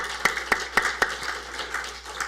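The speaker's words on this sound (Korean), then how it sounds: "우리 박수로 하나님께 영광 드리겠습니다" A church congregation claps in praise, with several sharp, distinct claps at a steady beat over a quieter spread of hands that thins toward the end, no voices.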